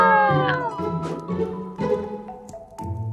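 Cartoon kittens meow in several high, plaintive calls, close and clear, one after another with short pauses.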